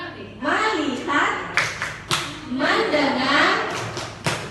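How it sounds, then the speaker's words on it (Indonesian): Children in a classroom clap hands in a patterned group clapping game, sharp claps falling in a rhythmic sequence between chanted sing-song voices. "Tepuk tangan dulu dong"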